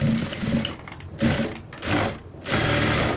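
A sewing machine stitches a chudidar pant pocket, running in three or four short bursts with brief pauses between them, close and clear with no talking.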